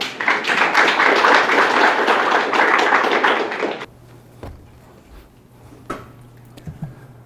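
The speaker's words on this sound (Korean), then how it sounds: "큰 박수 부탁드립니다" A lecture audience breaks into loud, dense applause for the incoming speaker that lasts about four seconds and then stops abruptly, leaving a quiet room with a low hum and a few scattered knocks.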